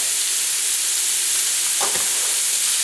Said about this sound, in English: I saute it until it's golden brown.